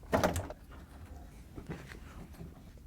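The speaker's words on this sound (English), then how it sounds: "Now that we have everything disconnected, we should be able to lift the front panel off." A short burst of metallic rattling and scraping as the front panel of a Whirlpool front-load washer is shifted loose, followed by a few softer knocks and handling noises.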